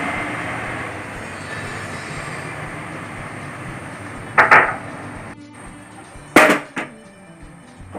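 A long, shrill steam hiss from a pressure cooker cooking jackfruit fades out, followed by two sharp clattering bursts as the weight rattles.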